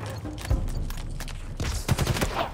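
Rapid bursts of gunfire in the Halo Infinite campaign, in the Conservatory mission, with sharp repeated shots and booms over a dense game soundscape, loudest near the end.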